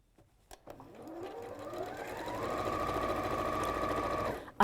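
A sewing machine stitches fabric for a tee or tote bag, its motor whirring up to a steady, sustained run for a few seconds before stopping with a soft clunk, close and alone without talk.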